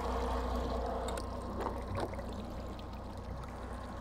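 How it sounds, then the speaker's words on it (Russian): Water gurgles and rushes steadily around the hull of a NordSilver 655 boat, a close, continuous burbling wash with a few brief knocks partway through. "вода шумит сильней, журчаще"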